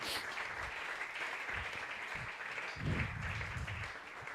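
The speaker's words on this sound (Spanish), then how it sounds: "¿Cuántos dan un aplauso a la fidelidad de Dios?" A church congregation applauds, producing steady, moderately distant clapping from many people that swells slightly near the end.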